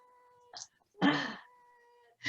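Two cats meowing in a few short separate calls, one louder drawn-out meow in the middle, faint and close against a quiet background hum.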